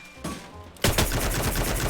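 Rapid automatic gunfire in the Free Fire video game: a faint shot is followed by a loud, dense burst of repeated shots that keeps going to the end.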